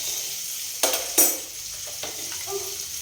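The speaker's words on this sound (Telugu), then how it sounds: "రసం తాలింపు వేసుకొచ్చుకుందాం." Tempering for a tomato, raw mango and tamarind rasam sizzles in a pan, with a couple of sharp bursts of hissing and some clinks of a spoon against metal, fairly close and at moderate volume with no voice.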